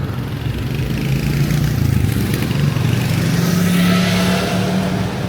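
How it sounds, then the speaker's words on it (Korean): Motorcycle engines roar past on a busy road by Jamsugyo Bridge in Seoul at night, a loud steady drone that swells as a bike passes close, with no talking. "오토바이가 많네."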